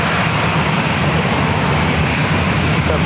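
A Southwest Boeing 737-700 jet at San Diego airport produces a loud, steady broadband engine roar, close and constant throughout with no break.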